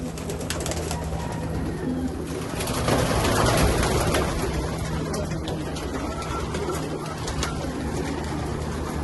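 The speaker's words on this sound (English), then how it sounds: "Take a look at that pigeon" Racing pigeons coo in a loft: soft, low throaty cooing under a dense, constant bed of fluttering, shuffling and background noise, with no clear speech.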